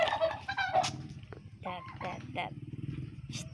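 Turkeys gobble in short bursts close by, mixed with a person speaking softly and some low rumbling in the background.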